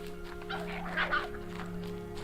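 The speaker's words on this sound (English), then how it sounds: "Do you hear the turkeys?" Turkeys gobble faintly in the wilds of the video game Horizon Zero Dawn, a few brief, muffled bird calls rising out of a steady low hum of game ambience.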